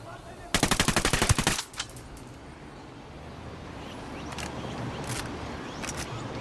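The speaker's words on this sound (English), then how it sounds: "Opening fire." Close automatic gunfire from the video game Ghost Recon Wildlands: a fast burst of about a dozen shots lasting roughly a second. Faint distant shots and game ambience follow.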